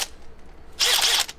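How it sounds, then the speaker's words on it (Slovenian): A Makita power drill with newly ordered bits drills a hole for planting seedlings outdoors, a loud whirring burst of about half a second after a quieter lead-in, with a brief ratcheting edge, no speech. "Klemen ima tu Makita orodje, vrtalnik, in moj brat je naročil tele svedre"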